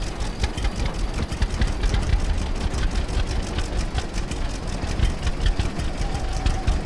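A tractor engine in Farmer's Dynasty runs steadily with a rough, knocking idle throughout, loud and close with no pauses.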